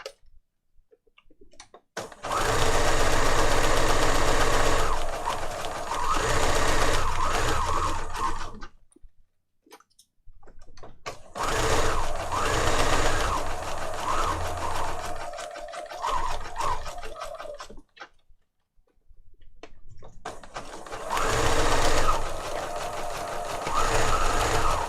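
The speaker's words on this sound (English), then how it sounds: "that's the last bit of sewing for today" A sewing machine stitching pages of a boho junk journal runs in three long bursts of rapid, steady mechanical whirring, separated by short pauses, loud and close with no talking.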